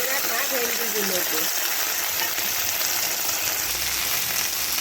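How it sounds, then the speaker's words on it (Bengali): Chopped okra frying in hot oil in a kadai gives a dense, steady sizzle throughout, with someone speaking briefly at the start. "এবারে ভেন্ডিগুলোকে তেলের মধ্যে খুব ভালো করে একটু ভেজে নেব"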